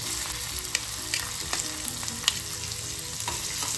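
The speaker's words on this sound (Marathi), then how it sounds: "ओके, आता मिरची टाकूया, कांदा थोडा।" Green chilies and a little onion fry in hot oil with mustard seeds, a dense continuous sizzle close up with occasional light stirring clicks and taps, no one speaking.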